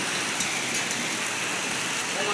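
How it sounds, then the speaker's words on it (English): Hail storm in West Virginia pelting down as a steady, dense hiss of icy pellets striking surfaces, continuous and close with no pauses. "It is hailing."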